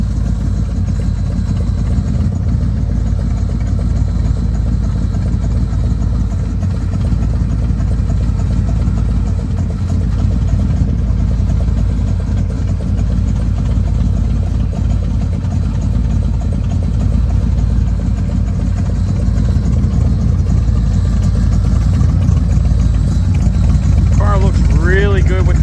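First-generation 1968-69 Chevrolet Camaro with chambered exhaust idling, a steady, loud low rumble that runs unbroken throughout.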